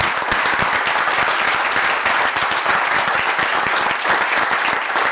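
Steady, dense applause from an audience at a social media education session at a Western Fairs Association event, filling the whole stretch evenly at full loudness with no talk over it.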